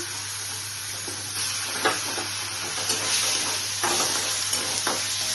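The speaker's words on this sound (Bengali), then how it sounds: "দিয়ে এখন টমেটোগুলি দিয়ে দিচ্ছি" Tomatoes go into a hot frying pan for a paneer and soybean curry, giving a continuous close sizzle with a few clattering stirs and scrapes and a steady low hum behind it.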